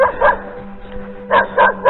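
Dogs bark outdoors at night near a steep slope, with one short bark and then a quick run of three sharp barks at moderate distance over a low background hum.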